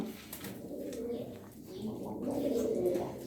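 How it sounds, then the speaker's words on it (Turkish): A male Ala pigeon coos loudly and repeatedly at close range, low throaty rolling calls with other birds faintly around it in a loft. "Bakın bangır bangır erkek ala ötüyor."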